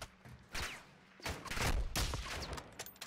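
Several sharp gunshot bursts crack out in a video game firefight, loud close blasts at irregular intervals with fading tails, the kind heard around sniper play.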